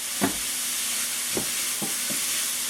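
Mushrooms and other vegetables sweat in a pan with kosher salt for a butternut alfredo sauce, giving a steady, moderate sizzling hiss broken by a few soft stirring scrapes.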